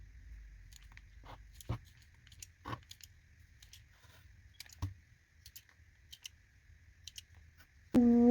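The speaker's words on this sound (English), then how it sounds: "So I think I'm just gonna cut them all off." Scissors snip through dead plant stems and roots in a handful of sharp, separate clicks spread over several seconds, close and fairly quiet, with a sudden louder noise at the very end.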